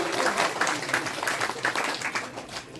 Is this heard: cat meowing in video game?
no